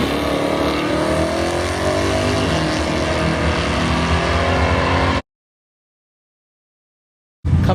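Plymouth Duster with a 318 engine tearing down a drag strip, a loud sustained engine roar for about five seconds before cutting out, then resuming briefly at the end.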